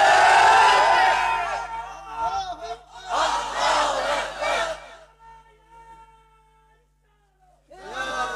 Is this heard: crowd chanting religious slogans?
yes